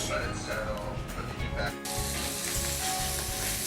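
Parsley and garlic in a hot pan with prosciutto, a steady, bright sizzle that jumps louder partway through as the ingredients hit the oil, with a voice talking over the frying.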